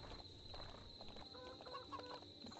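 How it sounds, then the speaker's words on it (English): Chickens clucking in a video game, a few short clucks over a steady electronic hum and faint background noise. "Scare the chickens."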